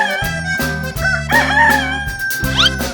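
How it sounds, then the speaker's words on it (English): A cartoon chicken in a 3D animal video game lets out a loud rooster crow, sounding over bright, steady game music with a few short rising calls near the end. "Chicken."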